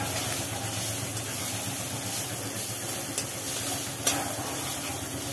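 Sliced banana stem fries in a pan with a constant, fairly loud sizzle, broken by two faint clicks of a utensil.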